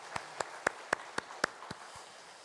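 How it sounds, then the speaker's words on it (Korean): A church congregation claps in an unsteady rhythm, about eight distinct claps spread over two and a half seconds, fairly close and moderately loud, with no voices over them. "하나님 앞에 영광의 박수 올려드리겠습니다"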